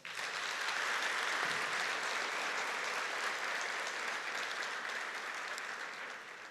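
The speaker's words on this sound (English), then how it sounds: "give your parents or your guardians or your village a warm round of applause" Steady applause from the audience at a university welcome ceremony, honoring the parents and guardians of first-year students. It sounds as one even wash of many hands, moderately distant and soft, and it eases off slightly toward the end.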